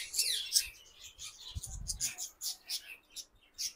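Bright, rapid chirping and squeaks from caged pet birds at a shop holding conures, including yellow-sided green-cheeked ones, and budgerigars, in bursts with quiet gaps and a brief low thud midway.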